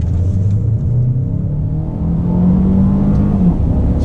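A 2019 Mercedes-Benz A220 with a dual-clutch transmission pulls away and accelerates, its engine note rising steadily. The sound is loud and continuous, with a deep rumble and whir close by and no talking.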